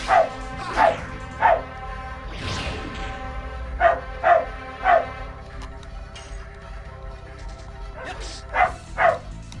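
Dog enemy in The Legend of Dragoon video game barking repeatedly in short sharp yaps, loud and close, in clusters of two or three over game music.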